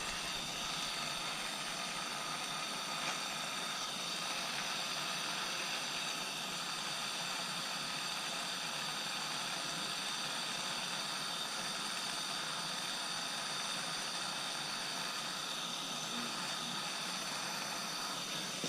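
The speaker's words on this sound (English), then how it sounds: "And then you see me work the flame around there." Soldering torch flame roaring steadily while soldering a two-layer silver cross pendant, a constant close broadband rush with no breaks throughout.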